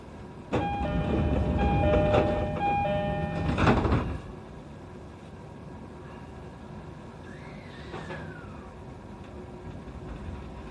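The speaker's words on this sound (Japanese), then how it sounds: "2番線の普通列車品川駅が発車します。" A station chime rings over the rumble of a JR Joban Line E531 series local train that stops abruptly, leaving a low hum with a faint sliding tone afterward.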